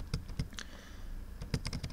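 Computer keyboard keys tapped to steer a character in a Pokémon Go style simulator on a school grounds map, a few quick clicks in short bursts, close and fairly soft with no talking.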